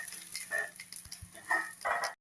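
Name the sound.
tempering spices sizzling in oil for radish sambar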